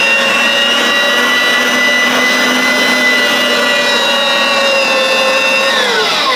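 A meat grinder fitted with a coarse chili grind die working through chunks of lamb and beef, a loud steady motor whine holding constant throughout, pitch dipping slightly near the end.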